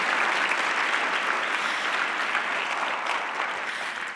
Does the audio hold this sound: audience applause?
yes